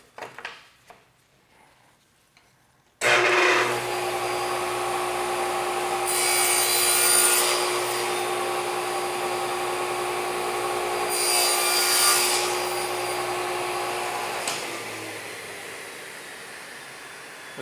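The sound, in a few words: saw cutting wood with a sled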